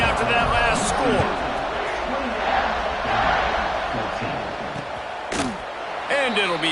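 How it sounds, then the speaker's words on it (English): A large stadium crowd at a college football game keeps up a dense, continuous roar and murmur, with scattered shouts and occasional sharp claps rising out of the steady wash of noise. "this crowd is buzzing after that last score"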